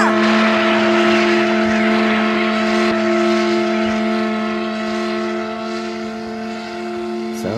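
An old engine used as a generator runs in an anime, a loud steady droning hum with sustained tonal overtones that holds level for several seconds before easing slightly at the end.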